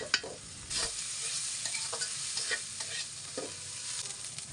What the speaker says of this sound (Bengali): আর সাথে একটু লবণ দিয়ে পেঁয়াজগুলোকে এখন একটু ভালো করে ভেজে নেব